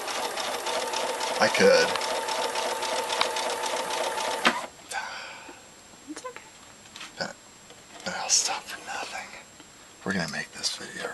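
A sewing machine hums steadily for several seconds while stitching fabric for a shopping bag, then stops; quiet talking and small handling noises follow.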